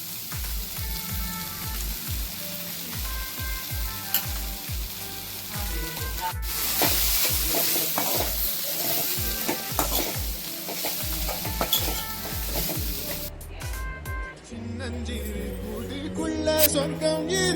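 Carrot and beans poriyal frying in a pan as grated coconut is stirred in, with steady sizzling and repeated scraping, stirring strokes close by under background music.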